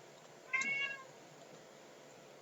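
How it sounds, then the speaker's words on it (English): A single short meow from a cat, fairly faint and clear against quiet room noise. "It's my cat."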